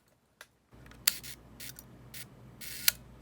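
Shutter of a 1958 Olympus Wide II 35mm film camera, firing as a few sharp, close mechanical clicks spaced apart over a quiet background hum, with no talking.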